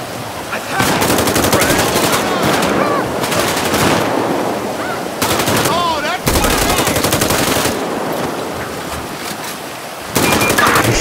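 Sustained automatic fire in a SWAT-versus-insurgents shootout at a bank in a video game, long loud bursts of rapid shots broken by brief pauses, with a voice talking beneath.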